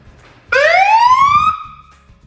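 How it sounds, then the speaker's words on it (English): A loud, close fire truck siren blast rises sharply in pitch, holds briefly, then cuts off and fades, with a low engine idling underneath. "And we do have a siren too."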